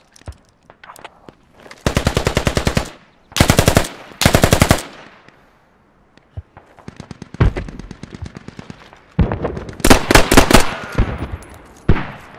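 Gunfire in the Squad V11 video game, insurgents against Russian forces: loud close bursts of automatic fire in several clusters, with sharp isolated shots between them and rattling echoes, no talking.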